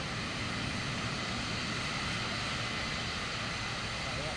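Vision Jet engine in a flight video game taxiing on an airport taxiway, a steady, unbroken jet drone with a broad rushing hiss that holds constant, loud and close, throughout.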